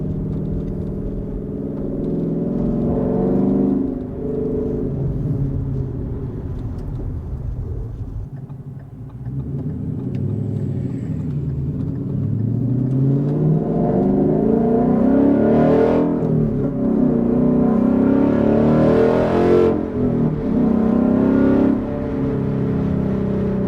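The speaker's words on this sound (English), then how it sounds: "Give him a little rev." A 1994 OBS pickup truck engine revs hard several times in a row, rising and falling in loud throaty surges with a steady rumbling idle between, heard close with no talking.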